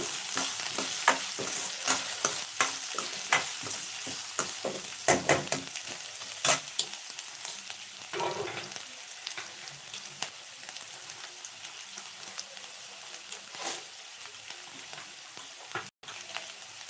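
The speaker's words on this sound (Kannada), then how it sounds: "ಪಲ್ಯಕ್ಕೆ ಒಗ್ಗರಣೆ ಹಾಕೊಂಬಿಡ್ತೀನಿ" Tempering for a ridge gourd curry sizzles and crackles in hot oil, a close, busy hiss broken by sharp pops, spatters and stirring clatter throughout.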